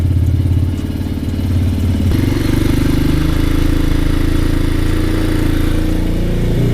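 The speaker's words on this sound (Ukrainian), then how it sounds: "Поки що працюю на підсосі, тримаю." A Rottor F1 300 motorcycle with a 175FMM engine idles on choke at very low revs, a steady close-up chugging drone that holds for the whole stretch with mechanical clatter and a small lift in pitch partway through.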